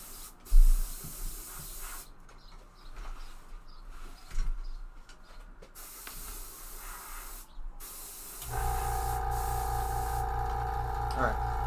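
An airbrush sprays in a steady hissing burst that starts near the end, after a stretch of quiet shuffling and handling noises.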